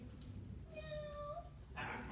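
A soft electronic meow from a robotic toy smart cat, a thin tonal synthetic cat call, sounds once under quiet room noise, followed by a brief breathy burst.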